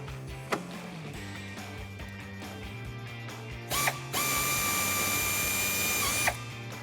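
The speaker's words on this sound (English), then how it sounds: "We're gonna try to get the air ratchet in there." Air ratchet spinning on the sway bar bolts of a 2008-2019 Dodge Challenger, a close, loud pneumatic whir that starts and holds for a few seconds, preceded by clicks and rattles of tool handling, with no talk.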